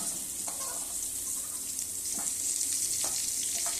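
Cauliflower florets frying lightly in white oil, a steady soft sizzle with faint stirring clicks and occasional scrapes throughout.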